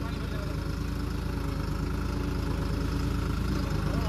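A New Holland 3630 turbo tractor engine runs steadily close by with a low, pulsing diesel rumble, while a voice can be heard faintly over it.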